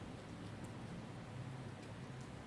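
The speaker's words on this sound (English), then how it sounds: "The storm softens to rain as his body begins to dissolve in golden glitter. Rain patters softly on shattered stone." Soft, steady rain patters on shattered stone during a storm's aftermath in a fantasy battlefield scene, a faint, even hiss that runs unbroken without other sounds.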